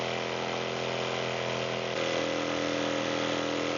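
A power saw cuts slowly along the edge of a Formica countertop, a steady, loud, continuous whine with a slight shift in pitch partway through, and no talking.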